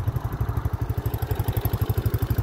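A motorcycle engine idles loud and close on a roadside in Catamarca, its rapid, uneven pulsing carrying an odd mechanical noise from a fault, with no talking.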